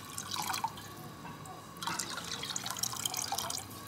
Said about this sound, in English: I think I'm gonna add a little bit of water to that.